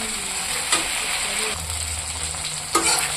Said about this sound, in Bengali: টমেটোটা দিয়ে দেবো। টমেটোটা একটু ভাজবো।